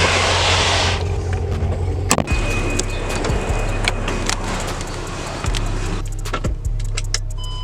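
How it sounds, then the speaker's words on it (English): A 600 horsepower car engine idling with a deep, loud rumble, close by, with several brief clicks and knocks over the steady drone. "And that's what 600 monstrous horsepower sounds like."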